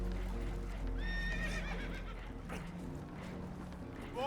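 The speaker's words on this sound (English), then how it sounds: "Horses are spooked" Spooked horses in Red Dead give a loud rising whinny near the start, with hoof clatter, rumbling movement and later softer snorting noises.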